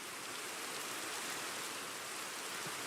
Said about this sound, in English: And also it's raining